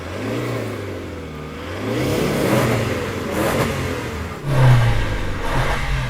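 A Toyota Land Cruiser SUV engine revs repeatedly up close, rising and falling in several loud bursts with a deep rumble between pulls.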